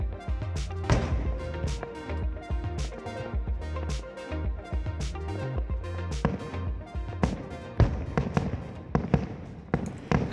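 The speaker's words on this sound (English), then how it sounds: "taking place on August 13th was the Kanmon Firework Festival" Fireworks at the Kanmon Firework Festival over the strait in Japan, a rapid dense barrage of booms and crackling bursts, loud and continuous throughout with no talk.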